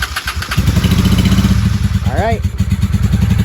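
A 1995 Honda Shadow VLX 600 engine runs on choke at close range with a lumpy, uneven idle that rises briefly as it is revved. Someone speaks briefly over it.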